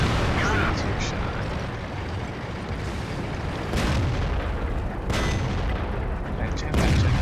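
Tank cannon shots in World of Tanks on the El Halluf map, booming blasts at uneven intervals over a constant rumbling battle bed, with a voice talking throughout.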